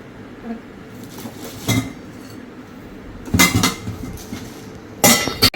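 Amway Queen steel cooking pots and lids are handled, with sharp metallic clanks and clinks in three distinct bursts, close and clear against a quiet room.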